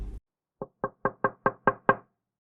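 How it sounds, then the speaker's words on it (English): A hand bangs against a car window as a sound effect: seven evenly spaced, hollow thumps in quick succession, close and loud, after a brief low thud at the start. "he bashed his hand against the window"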